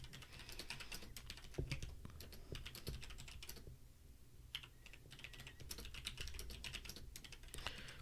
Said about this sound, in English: I'm going to type that up.